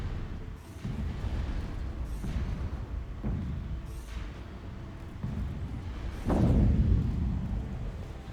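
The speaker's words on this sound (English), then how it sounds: "You can just hear some of the battles from the other parts of the galaxy. The Tachyon Lancers, yeah. Kinetic artillery." Rumbling booms and bursts from kinetic artillery and Tachyon Lancers in a Stellaris space battle, a steady low roar with periodic heavier impacts, the loudest blast near the end.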